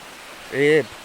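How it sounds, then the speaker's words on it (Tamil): Steady rushing water from a waterfall in the Western Ghats hisses throughout, with a short voiced tone rising briefly over it in the middle. "தண்ணி சத்தம் கேட்க ஆரம்பிச்சிட்டு இங்கே தான் ஃபால்ஸ் இருக்குன்னு நினைக்கிறேன்"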